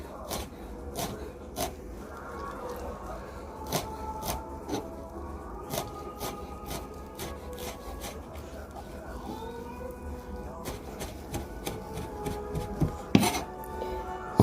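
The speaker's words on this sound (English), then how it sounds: "now we're going to cut this. Gather it into a bunch. Making sure you're cutting it thinly." A knife chops a bunch of greens thinly on a cutting board, giving a steady run of crisp taps and knocks, close and moderately loud, under a background hum.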